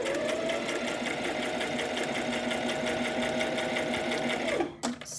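A sewing machine stitching fabric for a pinwheel hair bow runs in a fast, continuous, close mechanical chatter, then stops abruptly with a short clunk at the end.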